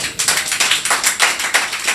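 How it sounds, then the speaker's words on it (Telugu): Loud, rhythmic hand clapping at a church gathering of ministers, sharp claps repeating in a quick, even beat throughout with no talk over them. "చప్పట్లు కొట్టు గట్టిగా."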